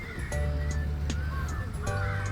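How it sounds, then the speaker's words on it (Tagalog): A crow caws in Yoyogi Park, Tokyo, giving a few harsh calls over a steady outdoor rumble in the busy park. "Ito, crow."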